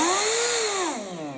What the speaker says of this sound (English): The blower is an air duster